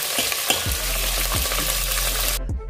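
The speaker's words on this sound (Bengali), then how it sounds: "লো ফ্লেমে এটাকে আমি একটু কষিয়ে নেব।" Green chillies sauté on a low flame for khichri, crackling in a steady close sizzle with repeated scraping strokes of a spoon against the pan.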